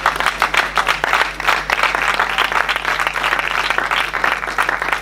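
An outdoor festival crowd in Cleto claps in tribute to a late festival supporter, fairly close, uneven applause with distinct individual claps and a low electrical hum beneath.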